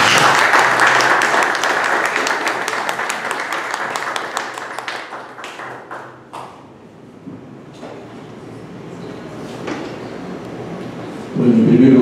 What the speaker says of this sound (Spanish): les pido en verdad un fuerte aplauso para él